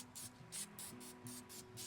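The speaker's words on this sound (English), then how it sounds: "I'm gonna hit it really quickly with a little bit of spray olive oil." Several short hissing bursts of olive oil cooking spray from a spray can, aimed at a turkey, come in a quick rhythmic series, each a soft airy spurt close by.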